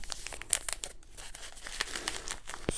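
A plastic bag crinkles and rustles in close, irregular bursts while small jewellery items are packed into it, with no talking.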